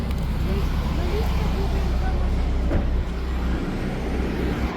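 An old, rusty scrap car idles with a low engine rumble, close and steady, and someone speaks briefly over the motor.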